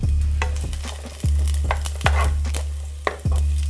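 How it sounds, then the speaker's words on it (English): Onions sizzle in hot fresh fried ginger oil while being stirred, with a low frying hiss broken by several rhythmic scraping strokes of a utensil against the pan, close and fairly loud. "First goes in the tablespoon of fresh fried ginger oil. And once it's hot, we're gonna add in the onions."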